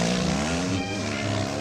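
A BMW Scrambler's 1200 cc air-cooled flat-twin motorcycle engine, 110 horsepower, runs loud and close with a throbbing, slightly rising growl.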